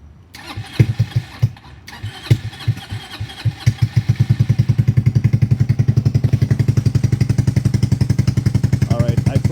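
A Venom X22 GT 250cc motorbike with a GY6 belt drive and carbon exhaust cranks with a few sputtering bursts, then catches and settles into a steady, loud, rapid idle thump close by.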